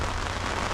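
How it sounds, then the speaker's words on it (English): Heavy rain falls steadily during a thunderstorm over a yacht anchorage in Road Town harbour, a dense, constant hiss of drops drumming on the boat with no break and no voices. "raining fairly heavily now"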